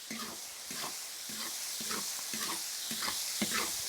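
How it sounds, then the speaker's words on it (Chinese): Lamb offal stir-fries in a wok with ginger, garlic, dried chilies, Sichuan peppercorns and bean paste, a soft steady sizzle broken by repeated rhythmic scrapes of the spatula, fairly quiet and close. "炒香下羊杂"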